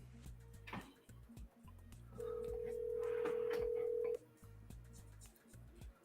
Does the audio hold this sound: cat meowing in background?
no